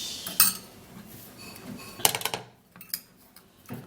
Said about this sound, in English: I'm going to be putting about 2 to 3 tablespoons of sugar into this.